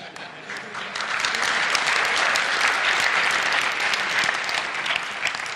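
Sustained applause from an audience, a dense wash of clapping that swells after the first second and holds steady and loud throughout.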